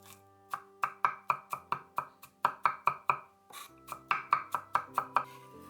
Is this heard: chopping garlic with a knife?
yes